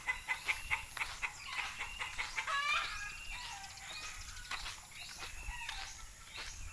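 Chickens cluck and squawk in an agitated commotion, a flurry of overlapping calls with some wing flapping, raised when a Philippine eagle flew over to a neighboring house.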